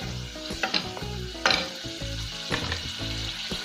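Chopped potatoes dropped into a hot pan with green chillies for masala dosa filling, a steady loud sizzle with scraping stirs and sharper crackling bursts, close up with no voices.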